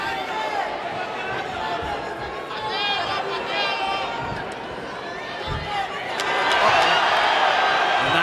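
Arena crowd at a Karate Combat fight in Mexico, a steady roar of cheering and chatter that swells louder near the end, with commentary talk over it.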